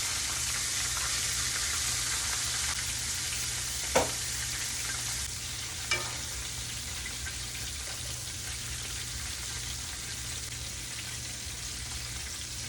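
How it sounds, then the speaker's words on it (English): Buttermilk-battered chicken fries in hot oil with rosemary, giving a steady, even sizzle and crackle throughout, interrupted by a couple of sharp clinks, with no talking. "All the chicken is finished frying."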